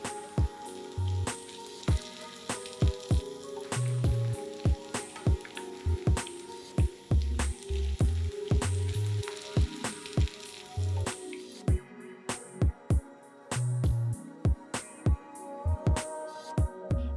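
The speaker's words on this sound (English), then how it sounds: "Similarly, I'm going to fry up the next batch." Cabbage veggie cutlets shallow fry in a pan, a soft continuous sizzle dotted with frequent sharp pops, clicks and occasional dull thumps.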